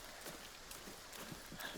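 Quick, soft footsteps patter in a steady rhythm, light and somewhat distant, with a faint background hum and no talking.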